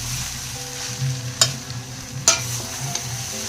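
Scraping and stirring of soaked poha in a large wok, with soft sizzling underneath and two sharp metallic clanks of a spatula against the pan.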